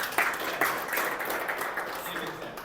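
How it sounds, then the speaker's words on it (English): An audience applauds a volunteer at a financial talk, a short burst of mixed clapping with a few sharper claps standing out, moderately loud in a room. "let's give him a round of applause for being brave"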